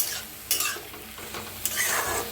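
Ghevda beans sizzle in a little oil in a pan while being stirred, with a steady frying hiss and brief louder scraping bursts from the spatula, close up and without speech.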